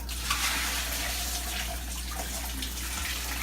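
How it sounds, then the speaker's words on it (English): Water from a pot of boiled potatoes being poured off into a sink, a steady close rush of splashing water that stays continuous throughout. "They're now in the pot and we're gonna drain them"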